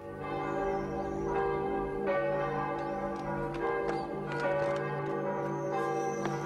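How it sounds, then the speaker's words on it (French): A village church bell rings steadily and fairly loud, its sustained harmonic tones swelling with repeated strikes throughout, with no voices present. "achète une nouvelle cloche afin que l'on puisse entendre l'appel du Seigneur de toute la campagne alentour"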